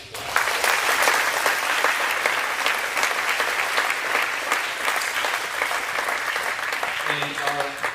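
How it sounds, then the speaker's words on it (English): Banquet guests at an athletics awards dinner give the assistant coaches a sustained round of applause, dense and even, with voices and a few louder claps emerging as it tapers near the end. "So let's give the assistant coaches a round of applause."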